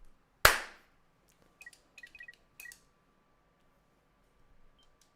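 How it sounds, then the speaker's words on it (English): A single sharp hand clap rings out as an audio sync test, followed by a brief decaying tail. A few faint clicks and beeps come afterward in an otherwise quiet room. "I'm going to clap one time."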